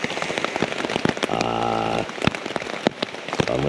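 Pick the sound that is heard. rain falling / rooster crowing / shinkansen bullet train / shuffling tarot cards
rain falling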